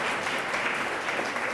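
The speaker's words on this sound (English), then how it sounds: "Give yourselves a round of applause." An audience at a forum applauds, a steady wash of dense clapping heard alone from start to finish.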